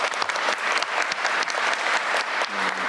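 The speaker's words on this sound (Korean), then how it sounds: "박수도 한번 하시죠." Attendees at a government briefing meeting with the president give a round of applause, a dense, even clatter of many hands, with a voice starting up briefly at the end.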